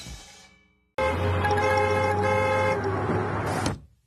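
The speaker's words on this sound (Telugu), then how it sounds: "ఎప్పుడు హార్న్ కొడుతూనే ఉంటావా పాపి?" A cartoon car horn blares in one long, loud, continuous honk after a short fading tone, cutting off sharply near the end.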